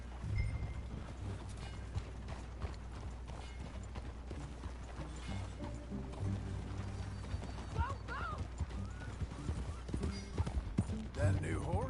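Hooves clip-clop at a riding pace in Red Dead Redemption 2, a faint rhythmic beat mixed with game mechanisms and occasional talk, with a horse whinny near the end.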